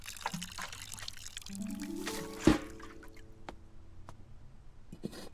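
Water poured into a container during a flower experiment, a splashy trickling pour with rising fill tone and a sharp splash midway, then scattered drips, close and fairly quiet.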